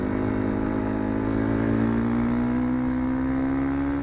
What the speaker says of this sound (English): I can crack the throttle open on a nice straight.